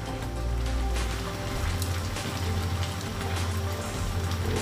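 Mixed vegetables and anchovies simmering in coconut milk in a home kitchen, a dense, steady bubbling and sputtering boil, close and continuous, with no voices.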